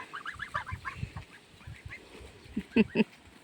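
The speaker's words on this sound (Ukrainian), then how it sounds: "Гусі." Geese honk and cackle nearby in a short series of calls, with a couple of louder honks toward the end.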